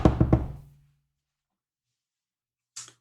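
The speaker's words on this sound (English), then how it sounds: "you hear a knock at the door, a real chipper knock" A cheerful knock at a door, three quick raps close together and loud, then a long silence before a brief faint tap near the end.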